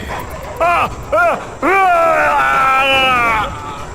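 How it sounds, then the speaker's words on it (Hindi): Dogs attacking a man in an animated Hindi horror story: two short, loud barking yelps followed by a long snarling, whining cry. Each sound is close, and together they fill the whole moment. "इससे पहले ही पीछे से आ रहे कुत्ते विपुल पर टूट पड़े"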